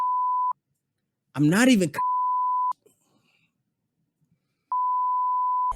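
Loud electronic censor beeps bleep out a man's speech during a wrestling recap, a steady tone sounding three times with a burst of his voice between them.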